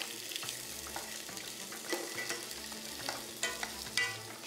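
Merguez sausages sizzle in a pan of oil with steady crackling, broken by occasional stirring scrapes, close up with no voices.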